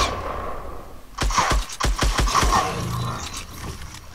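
Bursts of rapid gunfire in a Fortnite Battle Royale match, a quick volley of sharp close shots after a second of quieter game ambience, then fading into background noise.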